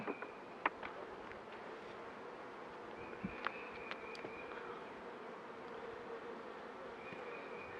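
Honeybees buzzing during a spring beehive inspection, a steady low hum from the colony with a few brief closer buzzes as individual bees fly past, no talking.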